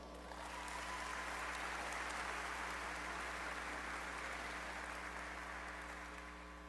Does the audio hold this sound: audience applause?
yes